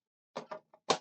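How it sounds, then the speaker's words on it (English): Small plastic door on a Corvette Stingray scale model being opened and shut, four light clicks and taps in quick succession, quiet and close. "let me just check how this door opens and closes"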